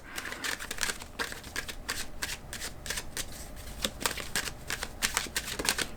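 Tarot cards being shuffled by hand, a steady run of quick papery riffles and snaps repeating for several seconds, close and fairly quiet with no voices.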